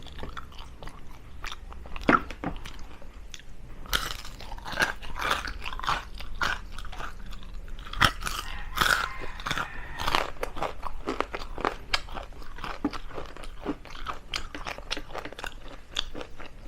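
Crispy fried chicken feet are bitten and chewed with their bones, making repeated close crunches and crackles at an uneven pace, with no talk.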